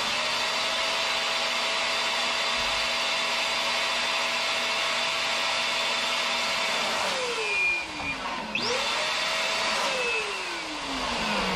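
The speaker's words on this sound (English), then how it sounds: "We're using just a very inexpensive inflator" Inexpensive electric balloon inflator running as a hose draws air out of a balloon, a steady motor whine that shifts pitch downward near the end as the load changes, then eases off.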